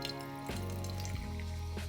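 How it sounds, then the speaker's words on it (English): Peach pear LaCroix sparkling water poured into a vessel for making coffee, a quiet steady liquid stream with gurgling pitch shifts and fizz, close and low in level, no talking. "You're gonna get your LaCroix, and you're just gonna wanna go ahead and just pour it on in there."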